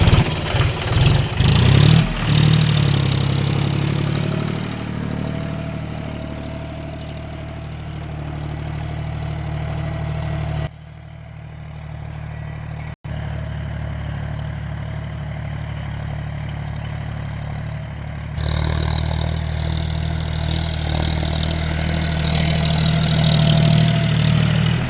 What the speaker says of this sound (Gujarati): હાલ તો ટ્રેક્ટર બંધ છે પણ તમે ચાલુ કરીને બતાવીશું